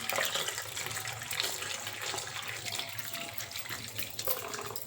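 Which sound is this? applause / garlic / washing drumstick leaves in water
washing drumstick leaves in water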